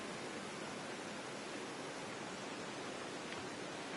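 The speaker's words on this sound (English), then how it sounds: "we take a closer look at this beautiful waterfall" A waterfall in the video game Season: A Letter to the Future gives off a steady, even rush of falling water, like broad unbroken white noise at a moderate level.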